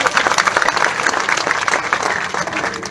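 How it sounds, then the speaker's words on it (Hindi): A crowd claps steadily and loudly throughout, a dense continuous wash of applause close by. "इनका भी अभिवादन कीजिए तालियों की गड़गड़ाहट से।"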